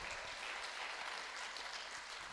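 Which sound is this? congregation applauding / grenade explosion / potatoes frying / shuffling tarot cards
congregation applauding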